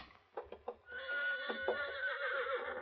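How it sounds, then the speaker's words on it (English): A horse neighs in an old-time Western radio drama, first a few short snorts and whinny bursts, then a long, loud, shrill whinny that sustains to the end, heard alone without talk. "that's my horse."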